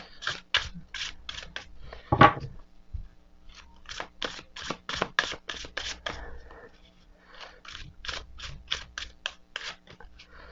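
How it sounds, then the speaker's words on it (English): Tarot cards from a new deck are shuffled close up in quick runs of crisp riffling clicks, several bursts separated by brief pauses, with one louder knock partway through. "Yeah, shuffle's not bad. It's clumping a bit with maybe some cards."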